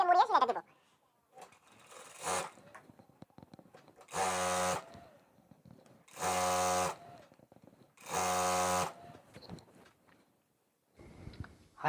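A sewing machine stitches the hem of palazzo pants in three or four short, whirring bursts with quiet handling between them. A voice is heard briefly at the start and end.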